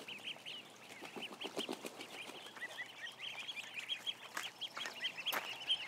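Young ducklings chirp and peep continuously in a large crowded flock outdoors, a dense overlapping chatter of high, rapid calls with occasional louder individual cries, no voices.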